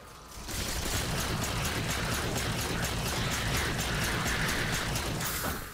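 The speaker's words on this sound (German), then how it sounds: "Oh, ich habe eine Granate geworfen" Halo 4 combat with a thrown grenade: a steady, rushing wash of crackling and hissing noise starts abruptly and holds at an even level for several seconds before tapering off.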